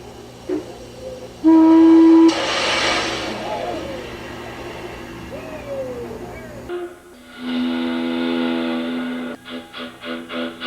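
Several loud steam locomotive whistle blasts, some long and wavering, others in shorter bursts, sounding close and piercing over a background rumble.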